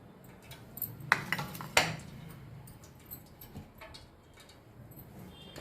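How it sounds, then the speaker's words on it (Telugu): A knife chops pulla ganda (elephant foot yam) pieces thinly into diamond shapes on a board, giving a few sharp clacks close by, two louder strikes near the start, then softer scattered taps. "ఇవి కూడా ఇట్లా చాప్ చేసుకొని పెట్టుకోవాలి సన్నగా ఇగో అయితే డైమండ్ షేప్లో కట్ చేసుకోవాలి"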